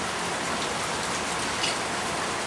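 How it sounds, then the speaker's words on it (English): Steady rain falls outdoors on plants and puddles, a dense even patter of drops that holds unchanged throughout with no voices. "Don't you know it's raining, Sophia?"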